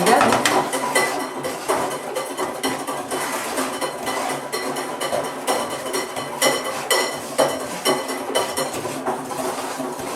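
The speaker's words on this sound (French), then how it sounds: "Moi je prends une petite cuillère en bois pour mélanger mon sucre et mon beurre" A wooden spoon stirs sugar and butter in a pan, making repeated scraping and knocking strokes against the metal in an uneven rhythm, close and fairly loud throughout.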